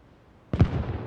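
A single RPG-22 rocket launcher shot in the Arma Reforger video game lands as a sudden sharp blast after a quiet moment, followed by a short rumbling decay.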